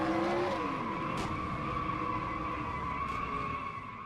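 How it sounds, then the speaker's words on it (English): In a stock car racing video game at Texas Motor Speedway, a Cup Series car slides sideways out of a turn with a sharp, sustained tire squeal over a roaring engine that gradually fades. "You heard it getting sideways coming out of turn number 2."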